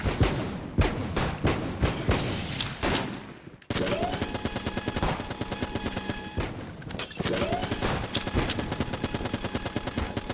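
Rapid automatic gunfire from a shooting video game, dense bursts of loud shots with a brief pause partway, then sustained machine-gun fire alone.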